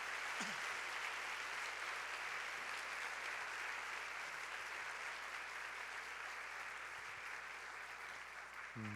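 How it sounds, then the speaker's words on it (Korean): A church congregation at a youth worship service claps in steady, distant applause that stays at a quiet, even level throughout. "다시 한번 큰 박수로 좀 격려합시다 우리."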